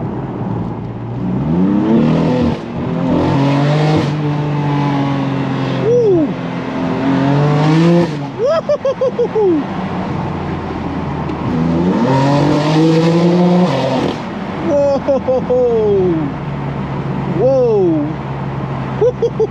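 A BMW M4 sports car engine revs and accelerates loudly in rising sweeps, pitch climbing and dropping between gear changes, with someone talking excitedly over it.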